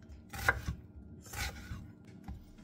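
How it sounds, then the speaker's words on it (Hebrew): A knife chopping an onion very finely on a cutting board, with two distinct bursts of quick close cuts separated by brief pauses. "כי מאיה לא אוהבת לראות שיש בצל, אז אנחנו חותכים אותו ממש דק"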